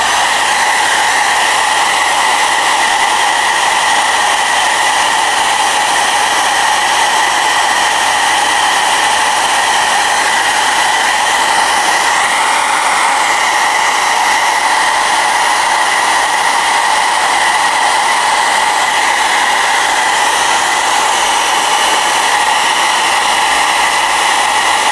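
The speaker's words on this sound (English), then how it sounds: "let's knock that back a little bit with the hairdryer just to start drying it off a bit more." A hair dryer blows continuously and loudly, held close while drying wet paint on a painting, a steady whirring roar with slight wavering and no speech over it.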